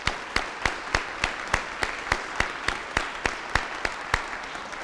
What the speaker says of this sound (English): Let's give them a round of applause for your service.